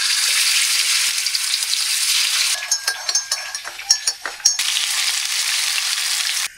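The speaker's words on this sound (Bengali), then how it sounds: "এই যে অল্প তেল দিয়ে কড়াইটা এইভাবে করে বাঁকা করে আস্তে আস্তে গ্রিলের মতো করে ভাজি" Food fries in a little oil in a tilted wok over low heat, making a steady sizzle broken midway by a run of sharp clinks and scrapes of a utensil against the pan.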